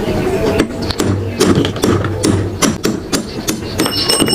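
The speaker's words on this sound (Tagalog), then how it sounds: "Paluin lang po ng martilyo." Metal-on-metal hammer blows drive the shaft out of an electric fan that hums but won't spin. The sharp strikes come close and loud at an irregular pace over a workshop background.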